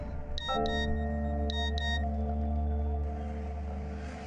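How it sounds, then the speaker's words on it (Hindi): A phone message notification plays as two quick pairs of bright electronic chimes over a steady low background hum, with no one speaking during the tone. "मंथन का मैसेज है"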